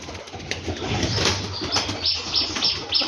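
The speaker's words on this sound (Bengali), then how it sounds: "এটা কি কবিতর আবার ঘরের মধ্যে পরাং পরাং করতেছে?" Rajshahi Giribaj pigeons inside a loft, repeated fluttering wingbeats with soft rustling and faint bird calls, fairly close and continuous.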